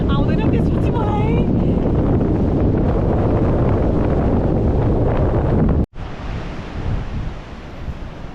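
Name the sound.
strong wind at the beach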